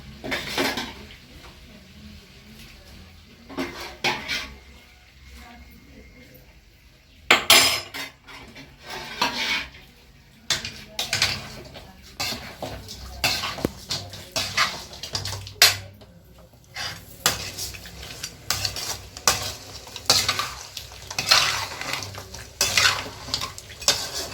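Goat meat curry being stirred and ladled in a pot, with repeated metal clinks and scrapes of a ladle against the vessel and a faint sizzle, close and fairly loud, with no talking.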